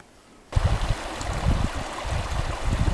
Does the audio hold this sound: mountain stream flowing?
yes